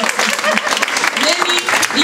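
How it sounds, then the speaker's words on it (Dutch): Applause for a panel at the Amsterdam Museum, a steady wash of clapping from a seated audience with brief voices rising over it. "Applaus voor het panel."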